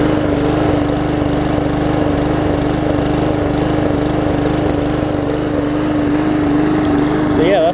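A Briggs & Stratton OHV 300E engine on a Hyper Tough push lawn mower, freshly fitted with a new flywheel key and burning off oil. It drones steadily and loudly up close, with its pitch shifting briefly at the end.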